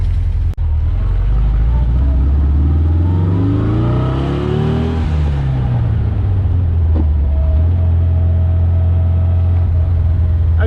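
The engine of the Porsche 356-001, the first Porsche and 75 years old, revs up loudly and close, climbs in pitch, then drops back to a steady idle rumble.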